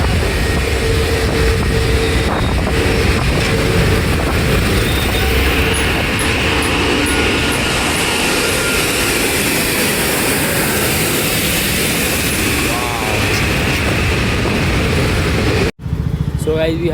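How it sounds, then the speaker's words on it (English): An Etihad Airbus A350-1000 jet roars past at night, a loud, continuous broadband engine rumble that holds steady for the whole stretch, with voices talking beneath it. "Now we have Etihad Airbus A350-1000 straight from Abu Dhabi"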